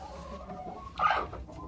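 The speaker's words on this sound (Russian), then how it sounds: "И здесь у меня разные помеси кур с чубатой." A single short cluck from crossbred hens mixed with a crested breed, heard close against steady low barn background noise.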